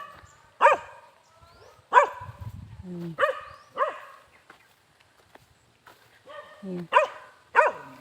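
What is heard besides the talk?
dogs barking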